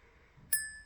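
A single bell is struck once, giving a sharp, bright ring that lingers and slowly decays over quiet room background, with no one speaking.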